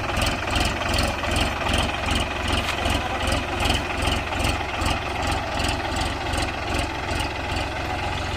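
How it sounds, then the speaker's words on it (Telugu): A tractor engine runs steadily in a rice field, its deep, even idle-like rumble pulsing continuously and fairly close throughout, with no voices. "చాలా ఉన్నాయి కదా అని ఇక ట్రాక్టర్తో చేస్తున్నారు"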